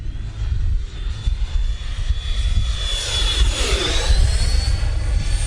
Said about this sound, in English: Don't get a whole lot of flight time out of these ducted fans